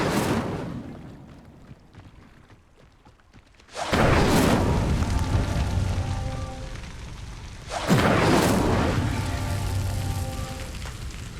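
The Incendio fire spell in Hogwarts Legacy ignites with two sudden roaring whooshes several seconds apart, each flaring into loud, crackling flames over a quieter hissing background.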